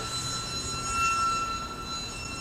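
A TechOne FPV900 RC wing makes a full-throttle speed pass, heard as a faint, steady high-pitched motor whine with a brief rising tone as it passes against a windy background.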